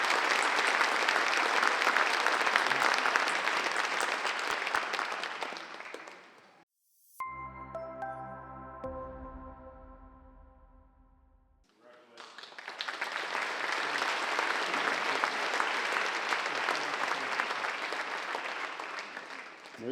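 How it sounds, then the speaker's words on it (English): Audience applause for award winners at a public safety awards ceremony, a dense, loud burst of clapping that fades out, gives way to a short musical interlude, then swells again into sustained applause. "Let's give them a round of applause,"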